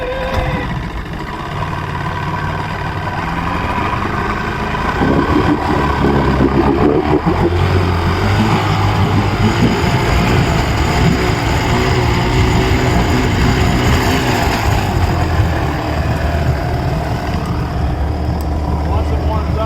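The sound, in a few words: Johnson 90hp outboard engine cold starting and running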